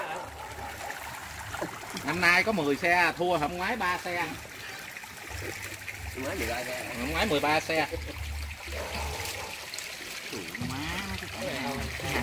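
Water runs back into a fish pond that was just bailed out, a steady flowing trickle under nearly continuous Vietnamese conversation.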